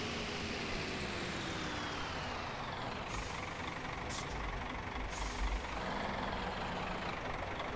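A passenger coach driven in Euro Truck Simulator 2 on a Colombian route brakes, with short bursts of air-brake hiss over a constant low engine drone and road rumble, moderately loud throughout.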